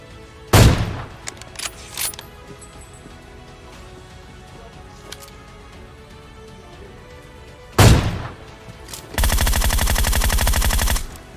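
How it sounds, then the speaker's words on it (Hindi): Gunfire in the battle royale game PUBG Mobile: two sharp, loud single shots, then a sustained automatic burst near the end, separated by quieter game ambience. "यहाँ दोनों बंदों को एक एक बॉडी शॉट लगता है"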